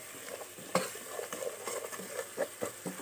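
Koshari sauce is stirred in a pot, giving soft repeated scrapes and light knocks of a spoon against the pot over a faint simmering hiss, about a dozen strokes in quick irregular rhythm.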